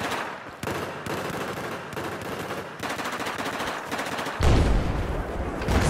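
Battlefield 4 video game combat during a sniper duel brings rapid bursts of close gunfire that repeat steadily, then a heavier booming blast near the end, with no talking.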